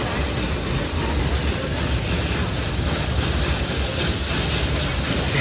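The Redwood Forest steam train in Santa Cruz rolls along its rails, giving a continuous loud rumble and broad roar heard from on board, with faint rhythmic clatter and no talk.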